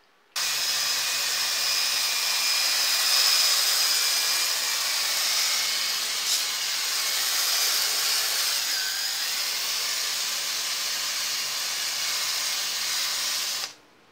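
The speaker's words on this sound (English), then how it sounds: "I decided to take the tuners off, see if I could buff up that headstock a little bit." A power buffer polishes the headstock of a Harley Benton SC Custom II guitar with its tuners removed, giving a steady, close whooshing hiss that runs unbroken for about thirteen seconds and stops abruptly.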